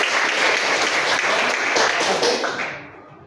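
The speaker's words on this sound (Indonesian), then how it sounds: "Oke, tepuk tangan untuk Bang Devin." A classroom group of students breaks into applause, a dense burst of clapping lasting about three seconds before fading out, with no talking over it.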